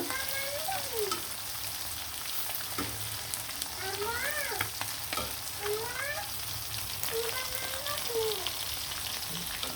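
Hilsa fish and roe fry in hot oil with red chilli, giving a quiet, steady sizzle and crackle with a few soft voice-like tones faintly in the background.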